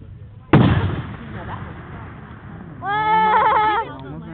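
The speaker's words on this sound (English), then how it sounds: "Watch flipping fireworks." A loud, close firework bang at an outdoor display in Oregon with a rumbling tail, followed a few seconds later by a voice speaking.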